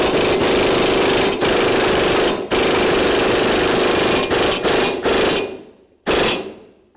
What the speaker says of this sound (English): Now we're just going to drive this in so the ball joint's flat up against the knuckle.